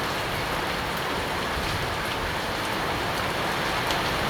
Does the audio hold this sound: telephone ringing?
no